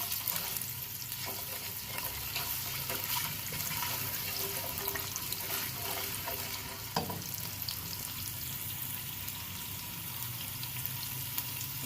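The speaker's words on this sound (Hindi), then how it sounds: "चॉप जो है अनियन डाल देंगे, और इसको फ्राई करेंगे" Chopped onions sizzle steadily in a pan for pakora kari, a continuous even frying hiss with faint stirring scrapes and a single sharper clink midway, no voices.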